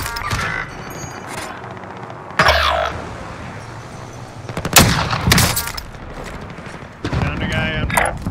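Bursts of gunfire in the Call of Duty Warzone video game, several loud volleys and single shots spread across the clip, with voices talking over and between the shooting.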